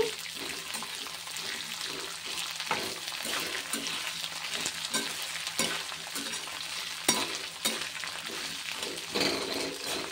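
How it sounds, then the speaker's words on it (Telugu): Coriander seeds fry in a pan for an ivy gourd chutney, giving a steady close sizzle with scraping stir strokes and occasional sharper clinks. "ఇప్పుడు ఇందులో ఒక పెద్ద స్పూన్ వరకు ధనియాలు బాగా ఫ్రై అవ్వాలి."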